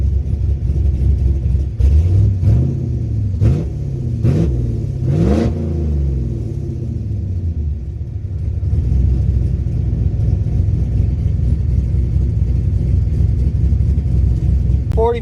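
A Chevrolet Blazer engine warming up, revved several times in quick rising bursts before settling into a steady, close, loud idle rumble.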